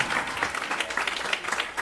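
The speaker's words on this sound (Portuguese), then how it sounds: "Aplauda bem forte a Jesus novamente, irmãos." A church congregation applauds during a service, a steady, dense clapping that keeps going through the whole moment with no break.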